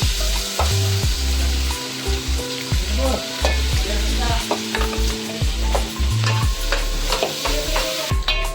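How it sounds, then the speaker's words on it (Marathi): Finely chopped onion fries in oil after ginger and garlic for pav bhaji, a loud, constant sizzle with rhythmic scraping stirs of a spoon against the pan, heard up close and with no talking. "आता आला लसूण झाल्यानंतर आपण कांदा टाकून घेऊया."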